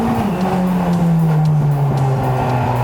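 Mercedes 190E race car being driven hard on a track, a loud, close engine drone from inside the car with a slowly falling pitch and a rough, rattling texture, continuous throughout.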